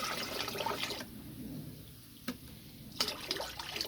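Cold water pours steadily into a canister for about a second, followed by quieter trickles and a couple of brief splashes, with some soft handling noise in the background.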